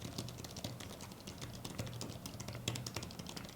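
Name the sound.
typing on a portable tablet keyboard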